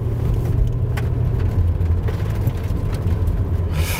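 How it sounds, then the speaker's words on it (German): A 1993 car with a long-distance V8 engine running smoothly, giving a steady, close, low rumbling hum with an even, round tone and no talk. "das ist so ein ganz typischer Langstrecken-V8-Motor"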